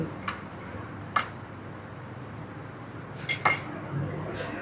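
Spoon tearing tender boiled pork in a dish, heard as a few separate, sharp clinks of metal on the dish over a quiet background.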